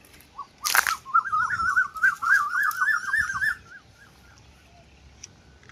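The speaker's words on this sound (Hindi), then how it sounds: "आप सुनिए इन पक्षियों की आवाजें।" Birds sing outdoors in a village farm area, a lively warbling phrase lasting a few seconds, preceded by a sharp rustle, then fading to quiet.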